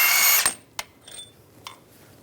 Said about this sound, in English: Now we can take the old bolt out.